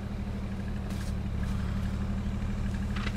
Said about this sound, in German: Dass das doofe Auto natürlich weiterläuft